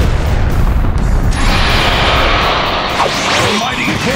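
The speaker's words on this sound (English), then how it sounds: "This is the fire storm." Fire storm jutsu explosion in the fighting game Naruto Shippuden: Ultimate Ninja Storm Revolution, a loud booming blast with rushing whooshes and crackling bursts that fill the whole stretch.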